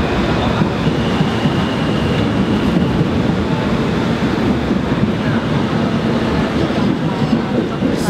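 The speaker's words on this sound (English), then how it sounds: "Train all the time." A train passing in New York, a loud, dense rumbling roar of rolling cars with faint rhythmic clatter, sustained and close for the whole stretch.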